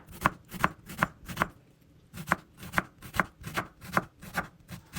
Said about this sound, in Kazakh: Енді 1 дана пиязымызды алып, мұны да ұсақ етіп турап аламыз.